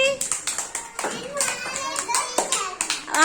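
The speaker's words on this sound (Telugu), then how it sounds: "వెరీ గుడ్, క్లాప్స్ కొట్టండి" Young children in a kindergarten English class at a government primary school clap together in quick, uneven bursts of close hand claps, with voices mixed in.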